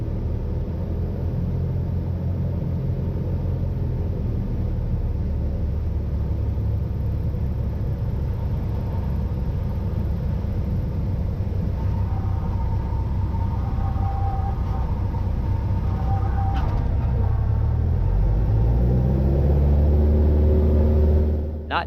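A small airplane engine drones steadily and loudly on landing approach, with a slight rise in power partway through and no talking.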